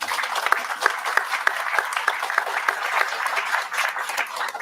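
Applause from a crowd at a groundbreaking ceremony for the final phase of the Beecher Terrace housing development, honoring design and construction staff, dense steady clapping throughout, fairly close and loud.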